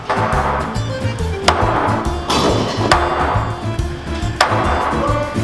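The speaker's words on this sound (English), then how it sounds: "I think you need a bigger hammer." Sharp hammer blows on timber being laminated into an old yacht ring out at irregular intervals, each a bright crack over a steady low hum and background clatter.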